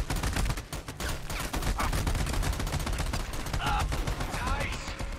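Dense bursts of gunfire fill a shooter video game, with overlapping volleys and rapid automatic fire running almost without break at high level, and a voice briefly heard underneath.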